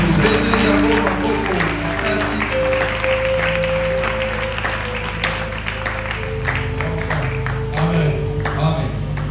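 Congregation applauding during a Pentecost church service, steady sustained clapping and crowd noise throughout with music and voices underneath.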